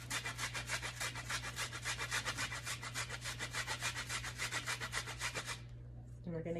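Fresh ginger scraped across the top of a kitchen grater makes a close, rapid, rhythmic rasping, steady strokes for about five seconds before stopping abruptly, with a faint steady hum underneath.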